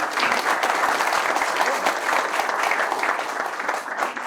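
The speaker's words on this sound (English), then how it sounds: "We'll give him one more round of applause." Dense, steady applause from a men's health conference audience thanking a speaker, a continuous crowd of many hands clapping close and loud with no pauses throughout.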